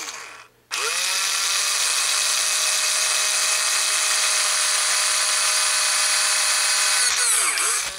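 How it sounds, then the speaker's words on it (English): Power drill boring a hole with a 1/8 inch bit while mounting a trap vertical antenna: a loud steady high whine starts abruptly, holds for about six seconds, then slows and stops. "Let's start with a smaller 1/8 inch drill bit."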